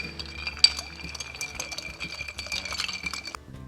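Ice cubes clink and rattle against a glass as a bourbon Old Fashioned is stirred, a quick run of light, bright ticks and taps close by, with no talking.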